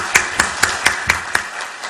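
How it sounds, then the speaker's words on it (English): An audience in an education commission hall applauds students with a run of distinct, evenly spaced claps, then lighter scattered clapping trails off. "put up a round of applause for these students who have shown up over here at HEC"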